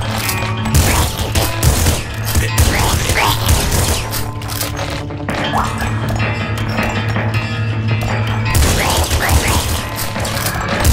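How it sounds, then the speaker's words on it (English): Shotgun blasts in the video game Nuclear Throne, a steady stream of loud, punchy shots layered over a busy backdrop of game music and effects with no pauses. "Pull out the shotgun first. Yep, let's shotgun."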